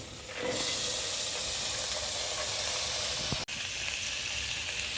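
Lentils tipped into hot fried spice paste in a pan burst into a loud, sharp sizzle that holds as a steady hiss, briefly cutting out near the end before resuming.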